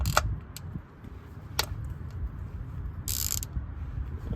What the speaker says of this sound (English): So this one is a T45, so you can grab the T45 and loosen it.